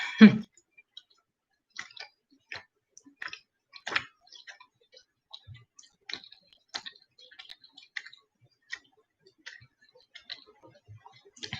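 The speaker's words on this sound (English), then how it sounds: "I forgot to take my vitamins, so being a big kid and chewing on those right now" Vitamin tablets are chewed close to the microphone, giving sharp crunches and quieter clicks in an irregular rhythm over a silent background.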